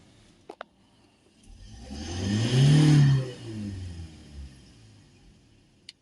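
A Ford Transit Custom van engine with a failed DPF cleaning revs up from idle to full acceleration, swelling into a loud roar around the middle before falling back. Faint clicks come at the start and end.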